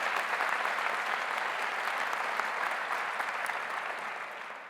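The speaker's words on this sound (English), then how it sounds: "let's clap for that" Sustained applause from a commencement audience at a graduation ceremony, a dense steady wash of clapping that holds throughout and tapers slightly at the end, with no talking over it.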